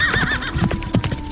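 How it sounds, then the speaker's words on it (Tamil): Horses' hooves gallop in a sound effect, with loud, close clip-clop beats in an uneven rhythm and a horse's whinny rising at the start. "குதிரைகளின் குளம்பு சத்தம் கேட்டதும்"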